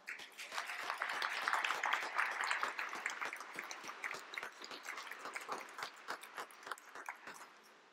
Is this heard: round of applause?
yes